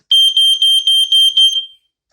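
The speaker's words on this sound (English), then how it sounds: "today I've got a vintage lifesaver smoke alarm. And yes, guys, I am going to be doing the smoke test today." Vintage Lifesaver smoke alarm sounding from its test button: six loud, shrill, evenly spaced beeps close up, then silence.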